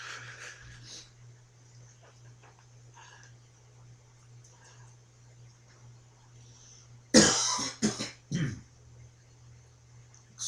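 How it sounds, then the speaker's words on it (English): A man clears his throat in a short harsh burst of raspy coughs near the microphone, breaking a quiet stretch with a low steady hum beneath. "I just had to clear my throat"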